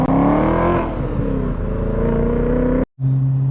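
A B7 Audi RS4 with a 4.2 V8 and a stage 1 tune revs hard up close, a loud rising and falling engine roar that cuts off abruptly before settling into a lower steady drone.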